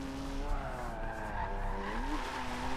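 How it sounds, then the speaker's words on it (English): Tires of a BMW M2 squeal and skid through a high-speed handbrake drift in the racing video game Forza Motorsport 7, a steady whine with rising and falling tones over continuous engine drone, fairly quiet, with no talk. "Trying to get some speed out of this M2 right now. Handbrake on that. Ooh. A little high speed drift."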